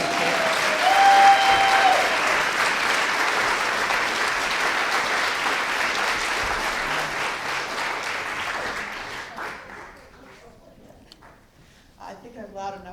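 Sustained applause from an audience at an event fills most of the clip, steady and fairly loud, then thins out near the end as a voice begins speaking.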